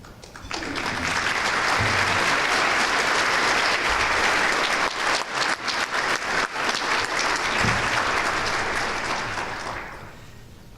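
An audience at a school education foundation breakfast gives a sustained round of applause for the school board, a dense even clatter of many hands that swells quickly, holds for several seconds and fades out.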